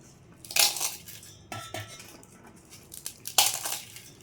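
Crisp crunching bursts as fried mini puris are crushed in a bowl, three or four distinct crackles with quiet clinks between, close and fairly soft.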